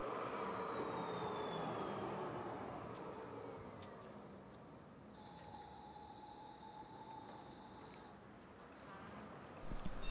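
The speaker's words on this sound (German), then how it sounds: "Hier fährt ein NGT 8D der Linie M1 nach Stöckheim an der Haltestelle Schloss ein." NGT 8D low-floor tram on line M1 pulling into a city stop in Braunschweig, a steady rolling rumble with electrical whines and tones rising and shifting as it slows, under faint background talk.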